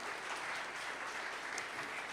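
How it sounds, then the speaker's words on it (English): An audience gives speakers a round of applause after an evening talk on music, steady uniform clapping heard from a distance, fairly faint and continuous with no voices over it. "let's give all of our speakers a round of applause"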